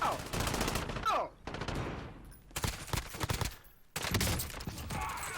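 Bursts of rapid automatic gunfire in the Warzone video game, loud and close, coming in several long volleys separated by brief pauses, with a little talking mixed in.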